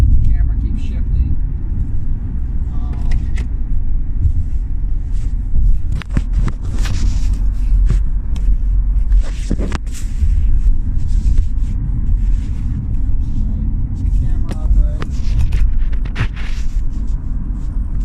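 Steady low road rumble from inside a car driving on a morning commute, continuous and fairly loud, with wind buffeting on the microphone and a few brief clicks and knocks.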